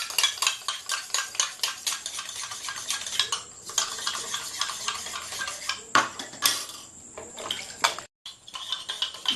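Egg mixture beaten by hand in a bowl, with quick rhythmic clinking and scraping strokes running steadily throughout, close and fairly loud, with a brief pause near the end.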